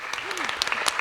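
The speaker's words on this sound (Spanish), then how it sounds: "creo que es un aplauso muy merecido" Brief burst of audience applause at a Spanish-language panel event on housing, scattered clapping over a steady background with a faint voice underneath.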